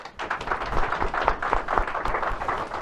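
A small Alcoholics Anonymous group in Hamburg gives a warm round of applause after a member's sharing, steady close clapping from several people that lasts the whole stretch without talk.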